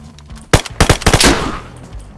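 A rapid burst of gunfire at a military-style camp, five or six loud sharp cracks in quick succession with a short echoing tail, close and dominating.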